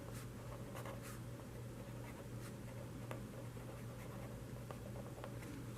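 Pen or marker scratching out handwriting during a math lesson on solving linear systems, a quiet run of short strokes and taps over a steady low hum, with no talking.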